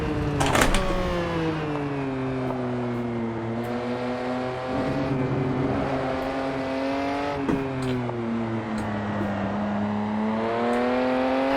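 A Ferrari 512 Testarossa in Assetto Corsa revs hard on the Nordschleife, its engine note climbing and falling through several gear changes, loud and close with no other sounds.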